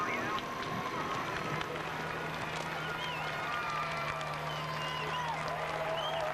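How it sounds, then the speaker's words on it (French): A roadside crowd cheers the Tour de France riders on the Mont Ventoux climb, a continuous dense roar of voices and applause with a French commentator talking over it. "toujours cette foule qui est venue saluer le Tour de France"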